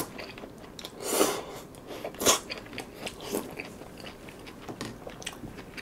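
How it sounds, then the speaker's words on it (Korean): Someone eats jjamppong noodles with a spoonful of toppings, taking a few distinct, close crunchy bites followed by softer chewing and mouth noises, with no talking. "면이랑 한번 먹어볼까요? 고명을 이렇게 푹 퍼가지고 면하고 같이 이렇게 한번 먹어보도록 하겠습니다."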